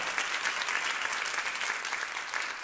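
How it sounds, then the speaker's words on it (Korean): Sustained applause from a large audience at a church worship gathering in Daejeon, dense and even throughout, heard from a little distance. "주님께 영광의 박수 올려드립니다"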